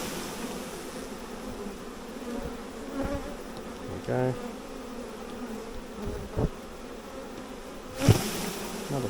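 A honey bee swarm being shaken into a nucleus box buzzes as a dense, steady drone, broken by a few bumps and knocks, while someone speaks briefly.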